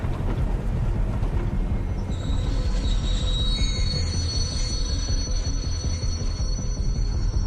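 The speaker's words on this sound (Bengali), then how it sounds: "এই কি, ট্রেনটা আবার থামছে কেন?" A train slows toward a stop: a heavy, continuous low rumble of rolling wheels, joined partway through by a loud, sustained high-pitched squeal of braking wheels, with no talking.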